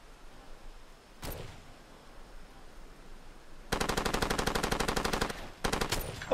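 Video game gunfire in Far Cry 2: one sharp shot, then a long rapid burst of automatic fire and a second shorter burst, loud and close, with no talking.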